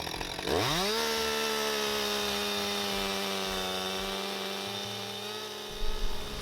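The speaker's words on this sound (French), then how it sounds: "Bien que les tronçonneuses, c'est bruyant" A chainsaw in a forest revs up sharply from idle and holds a loud, steady buzzing whine while cutting wood, easing slightly in pitch before a brief burst near the end, with no talking.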